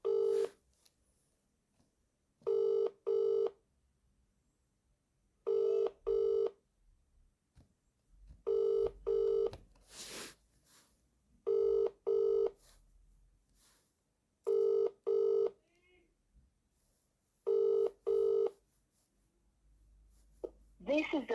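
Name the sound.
telephone dialing and ringing for a mobile call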